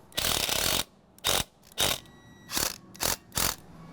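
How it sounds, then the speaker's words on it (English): A ratchet tightens bolts on concrete stairs, with one long burst of clicking followed by five short ratcheting strokes at a steady pace, close and loud, with no talk. "I'll put them all in before I tighten them down."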